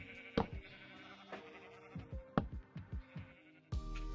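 Sheep bleating on a farm in a video game, several short separate bleats at close range in an irregular sequence, with no talk.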